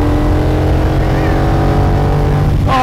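Vintage Ferrari 250 GT Lusso V12 engine, loud and close, holding a steady harmonic drone that sits mostly level and swells slightly near the end, with a voice briefly audible over it.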